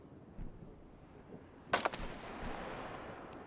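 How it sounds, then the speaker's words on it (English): A single in-game gunshot from This War of Mine cracks sharply against a quiet background, followed by a brief decaying echo, with faint soft rustles before it. "wait for the shot, there, done, run to exit"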